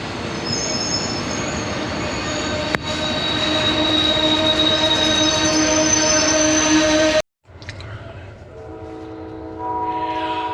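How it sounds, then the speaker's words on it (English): A passenger train pulls into a station with a loud, close rumble of wheels and a sustained high squeal. A brief horn-like tone sounds early on, then the noise cuts off abruptly and a quieter rolling hum follows. "here's our train"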